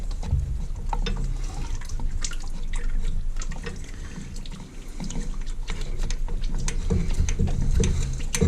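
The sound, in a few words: engine oil draining and dripping from loosened filter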